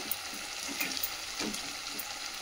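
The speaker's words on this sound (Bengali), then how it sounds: "তো এখন পেঁয়াজটা ভাজা হোক" Onions sizzle steadily in a hot pan, a constant crackling hiss with a few soft scrapes of stirring, no talking.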